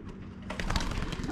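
Young racing pigeons leaving a loft and taking to the air, a close flurry of wing flaps and short beating bursts starting halfway through, with a faint coo-like call early on.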